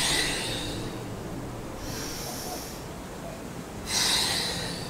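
Slow, deep yoga breaths in a guided core-focused flow, heard as three long airy whooshes of inhaling and exhaling, close and fairly loud, with the last one strongest.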